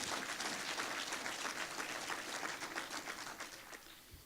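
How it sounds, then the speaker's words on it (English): Audience applause from a crowd at a policy talk, dense steady clapping that fills the whole stretch, loud and close, tapering slightly toward the end with no talking over it. "Give it a round of applause for an amazing acronym"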